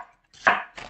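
A knife cuts through vegetables on a cutting board for a homemade vegetable soup, with one firm close chop followed by a softer second cut in a quiet kitchen.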